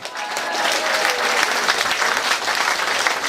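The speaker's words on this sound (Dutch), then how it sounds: "Dat is wel een applaus waard." An audience breaks into applause, a full, continuous roar of many hands clapping, loud and sustained without a break and with no talking over it.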